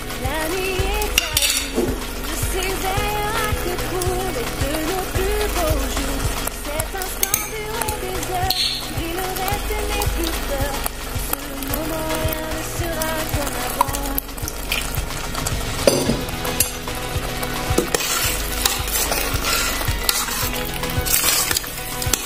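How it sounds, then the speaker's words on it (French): Chili peppers and carrots simmer in oil in a pot, a steady close sizzle and bubbling throughout, with occasional clinks of utensils against the pot. "Je vais laisser encore donc mijoter quelques minutes avant d'enlever."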